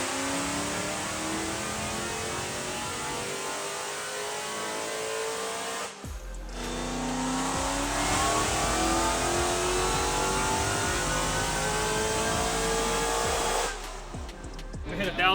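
A manual Dodge Demon strapped to a dyno, its engine revving hard and loud at close range, holding high with rising pitch, cutting off around six seconds, then roaring again before easing near the end.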